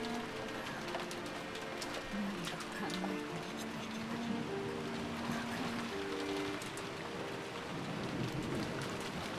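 Heavy rain beats against a window glass in the visual novel Umineko, a dense, continuous hiss and patter with soft tonal music underneath, steady throughout with no voices.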